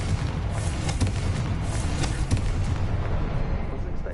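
Confringo fire-blast spell explosions in Hogwarts Legacy, a steady rumbling wash of booming blasts with several sharper impacts, loud and continuous for a few seconds.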